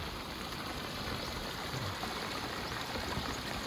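Floodwater flowing across a village road, a steady broadband rushing and trickling like a stream, continuous and fairly close, with no voices.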